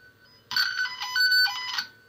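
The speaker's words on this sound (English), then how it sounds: "I'm going to use my tone generator." Warbling electronic tone from a tone generator signal sent down a telephone line on a 66 punch-down block, starting abruptly and holding steady and fairly loud for about a second and a half.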